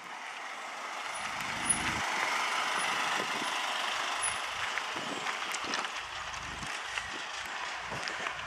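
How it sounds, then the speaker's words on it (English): A large vehicle, apparently a truck with an air brake hiss, rumbles across a narrow one-lane bridge on Holiday Island, Arkansas, with an 11-foot-6 clearance, producing a steady engine drone and road noise at moderate distance throughout. "other side has to wait for this vehicle to pass the one lane bridge"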